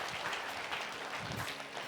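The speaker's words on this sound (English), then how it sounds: "Ladies and gentlemen, a bigger round of applause for David." Faint, fairly distant audience applause at a conference talk on people analytics, a soft continuous patter of many hands for the whole short stretch.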